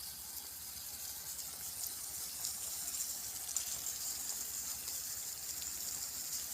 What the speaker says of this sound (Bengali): এখান থেকে জল লিক হয়েছে পাইপের।